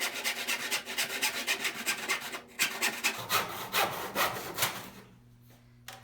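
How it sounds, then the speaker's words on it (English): A crosscut back saw cuts a squared piece of pine held in a mitre box, steady rhythmic rasping strokes up close, each stroke distinct, ending after a few seconds with the blade stopping. "I've got myself a nice back saw here, a crosscut saw. I've got myself a more or less squared up piece of pine here. Just gonna butt it up and make my cut."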